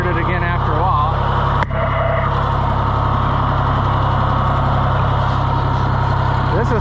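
A John Deere 1020 tractor engine idles steadily with a loud, continuous low rumble and a brief knock partway through, while a voice talks over it on and off.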